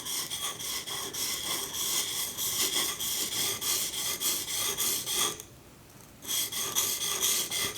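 A woodworking chisel rubbed back and forth on a sharpening stone, rocked to find its primary bevel, gives a steady gritty rasping in repeated strokes, close and continuous, with a brief pause near the end before the strokes resume.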